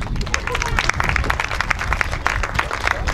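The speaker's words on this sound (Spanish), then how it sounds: "Otro aplauso para el que ha puesto los focos." A village crowd at a live comedy performance in Majuges breaks into sustained, loud applause, thick overlapping claps with some murmuring voices underneath.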